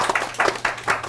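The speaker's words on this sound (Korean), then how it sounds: "오늘 수고해주신 두 분의 MC한테 박수 부탁드리겠습니다" Audience applause for two MCs at a career-mentoring broadcast event, a short burst of rhythmic group clapping with several distinct swells, moderately loud and without speech.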